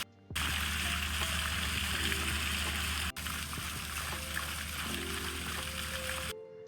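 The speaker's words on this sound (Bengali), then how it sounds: "এখানে ভালো লাগার আরেকটা জিনিস রয়েছে, সেটা হচ্ছে ঝর্ণাটা।" A resort waterfall gives a steady, broad rush of falling water, loud and close, that holds almost unbroken before it cuts off. A few faint tonal sounds sit underneath.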